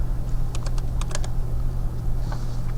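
Keys tapped on a computer keyboard while entering a search, a quick irregular burst of clicks close by over a steady low hum, with a couple of faint taps trailing after.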